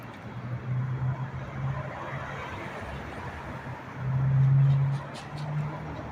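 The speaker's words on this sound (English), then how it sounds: "on the strip coming up this way, going down the other way." Cars passing both ways along the Las Vegas Strip in early morning, a steady road hum with engine tones swelling as one vehicle goes by, mid-distance, with occasional talk.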